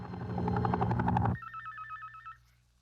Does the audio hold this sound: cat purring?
no